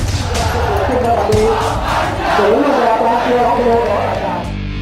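Samut Prakan FC supporters, the Fortressians, roar and chant together as a loud football crowd, a dense continuous wall of voices swelling in waves, with shouted rhythmic chanting throughout.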